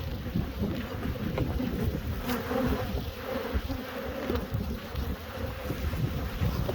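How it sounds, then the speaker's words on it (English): Honey bees buzz densely around an open beehive, a continuous close-up drone with individual bees swelling louder as they pass near the microphone, and some wind buffeting. "The bees completely smashing my camera."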